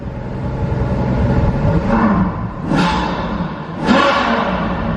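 A car with deleted catalytic converter and straight-piped exhaust idles loudly and revs twice in sharp blips, a rough rumbling drone rising briefly with each throttle stab, close by.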